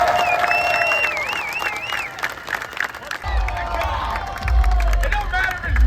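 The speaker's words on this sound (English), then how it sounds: "give him a round of applause" Crowd applause and cheering at a rain-soaked NASCAR race in New Hampshire, mixed with whistles and general babble, continuous and loud, with a deep rumble joining partway through.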